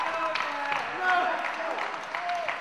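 Wrestling crowd at a championship match cheers and applauds for Brad Thomas, a steady broadband roar of voices and clapping with a commentator talking over it.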